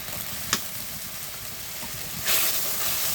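Ginger garlic paste with turmeric, chili and salt sizzles and hisses steadily in hot oil, with a brief scrape of stirring and a louder surge of frying near the end, heard up close with no talking.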